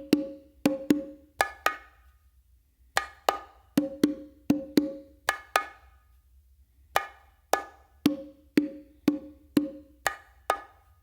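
Bongos struck with fingers and palm opens on the hembra, crisp ringing hits in quick pairs and short runs, close and dry, with brief pauses between phrases and no voices.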